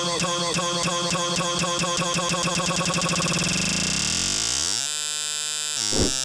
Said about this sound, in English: using the jog wheel to chop this loop up in a continuous fashion